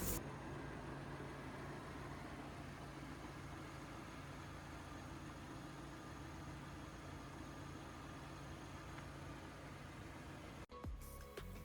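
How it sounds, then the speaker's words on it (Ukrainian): A steady, low petrol engine idle from a 2007 Kia Sportage 2.0 runs evenly and continuously from close range, ending with a brief clunk near the end. "Зараз підійдемо ближче до двигуна, щоб ви послухали роботу самого двигуна."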